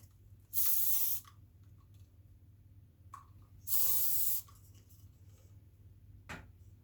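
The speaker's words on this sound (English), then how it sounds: "a little spray to finish it" Two short bursts of hairspray hiss close by, each about half a second, separated by a quiet pause with faint ticks.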